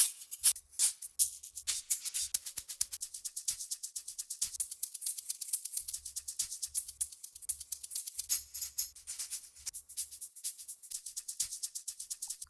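A shaker loop from a music production sample pack plays a fast, steady rhythm of crisp, bright shakes with faint low thumps underneath, continuous and alone.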